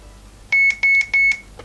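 A Drift Ghost-S action camera powering off, giving three short high electronic beeps in quick even succession, clear and close in a quiet room.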